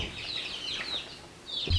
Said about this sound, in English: So right now I have these chicks in here.